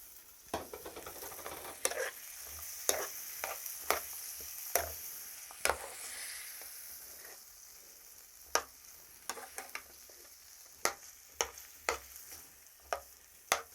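Chickpeas get stirred into a pan of sizzling spices and tomato puree, with scattered spoon scrapes and knocks over a soft, continuous frying hiss, close and with no talking.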